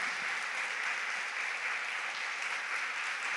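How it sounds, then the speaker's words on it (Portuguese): A church congregation applauds in an even, continuous wash of clapping that stays fairly faint and distant throughout, with no voices standing out. "Você pode aplaudir o Senhor?"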